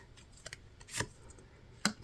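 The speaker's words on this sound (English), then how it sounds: "as I'm shuffling out your cards" Tarot cards shuffled by hand make short papery riffles and soft slaps in a few separate bursts, close and fairly quiet, with no voice over them.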